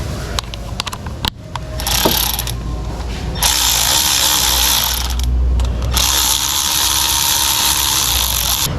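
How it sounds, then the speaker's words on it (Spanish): A hand ratchet clicks as it tightens small screws on a Chevrolet Sonic engine with a misfire fault. Bursts of rapid, close ratcheting alternate with brief pauses, and there is no talk. "vamos a colocar sus tornillitos y apretar de nuevo todo"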